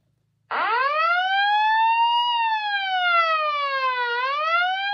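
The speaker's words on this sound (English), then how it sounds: "Okay, and then push on the siren." A loud electronic siren from a WinBridge M801 wireless microphone amplifier starts abruptly and wails with rising and falling pitch, steady and close, filling the whole stretch without pause.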